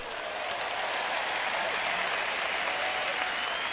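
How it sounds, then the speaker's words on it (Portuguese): Steady applause from a church sermon audience, a dense even wash of clapping hands that holds at one level from start to finish with no voices over it. "eu tenho 3 pessoas batendo palmas para isso"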